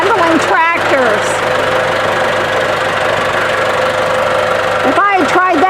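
A tractor engine runs steadily while dirt is moved into a tight spot between a gate, a loud continuous mechanical drone with a knocking rumble. Someone talks over it at the start and near the end.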